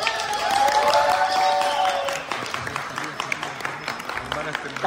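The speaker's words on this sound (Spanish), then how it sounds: "denle un fuerte aplauso a mi querida Liz" Applause at a tea party event in Chile as the host asks guests to welcome Liz; clapping rises under a talking voice and tonal background sound, then fades toward scattered claps and voices.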